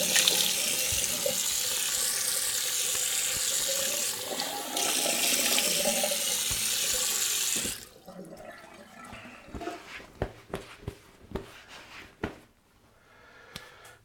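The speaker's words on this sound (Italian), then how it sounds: "Lo lavo, cioè lo passo sotto l'acqua, lo strizzo un pochino e basta." Tap water runs steadily into a sink as a shaving brush is rinsed, a loud continuous splashing that stops abruptly, followed by drips, squeezing and light handling sounds.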